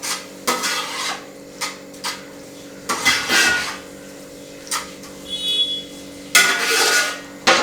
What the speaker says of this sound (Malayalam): അപ്പം നല്ലപോലെ ഇതുപോലെ ഇളക്കി യോജിപ്പിക്കുക.